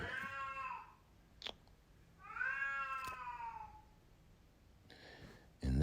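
A cat meows close by: a couple of long, drawn-out, wavering cries separated by a quiet pause, with faint clicks between them and a sudden thump at the end.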